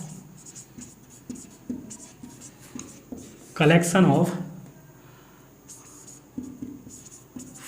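Marker or chalk scratches in short strokes as an example is written on a board in a maths class, mostly under a teacher's steady talking.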